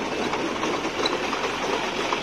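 A Sonalika DI 734 tractor engine drives an atta chakki and mini mustard oil mill, a continuous loud, dense mechanical drone with steady clattering texture throughout, no voices.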